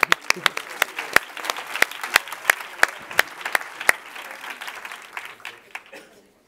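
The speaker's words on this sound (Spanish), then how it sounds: "otro fuerte aplauso para ellos" An audience applauding at a conference talk, a dense patter of claps with sharper individual hits standing out, fading away toward the end.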